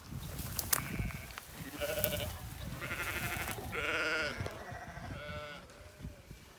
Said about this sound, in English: Check on how my sheep are doing.